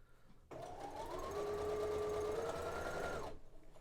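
A sewing machine stitches a fabric mask pocket in one steady run of about three seconds, a close whirring hum that starts abruptly, rises slightly in pitch, then stops.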